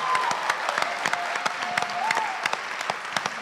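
Audience applause after a performance on a live local TV broadcast, a steady wash of clapping with a few sharper claps standing out, and a voice calling out briefly over it.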